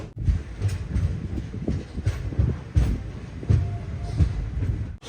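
An express train runs along the line between Alappuzha and Chennai Central, heard from inside a sleeper class coach as a close, rumbling clatter of wheels over rail joints in an uneven rhythm, with no talking.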